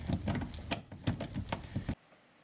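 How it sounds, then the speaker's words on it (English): A hand ratchet fitted with a Phillips bit turns out a side bumper screw on a Honda CR-V, giving a quick run of about a dozen close, crisp clicks that stops sharply, followed by near silence. "I'm just using a Phillips bit on a hand ratchet"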